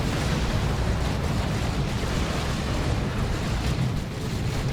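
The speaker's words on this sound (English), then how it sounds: "Las Cannon doing its job." Lascannon fire in Dawn of War 2 during a Chaos Space Marines versus Tyranids battle, a continuous roaring barrage of booming blasts that stays loud and steady throughout, with no voices.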